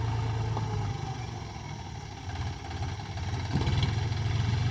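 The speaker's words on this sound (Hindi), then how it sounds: "ये ट्रैक्टर पूरे गांव की ट्रॉली भर देता है।" Tractor engine running steadily while loading manure in a village, a low throbbing idle that dips and surges with load, close by and alone.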